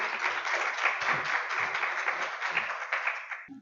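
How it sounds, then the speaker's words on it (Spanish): An audience at a lecture on voluntary blood donation and transfusion safety gives a warm, even round of applause that holds steady, then cuts off abruptly near the end. "Démosle un cálido aplauso,"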